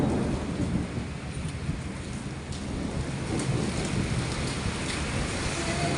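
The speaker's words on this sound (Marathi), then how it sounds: "हो गरजा लागले बघा." Thunder rumbling through heavy first-of-season rain outdoors, a dense, steady roar of rain on surfaces with a low deep rumble underneath, loud and continuous throughout without speech.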